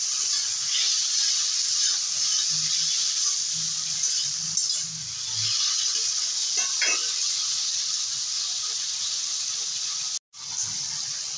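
Ridge gourd vegetables being sautéed over medium heat in a pan with salt and turmeric, giving a steady, fairly loud sizzling hiss with occasional soft stirring scrapes, no voices.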